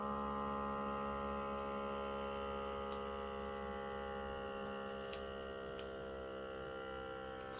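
A PAAS blood pressure monitor running after its start button is pressed: a steady electric motor hum with a few faint ticks, close and continuous with no voices.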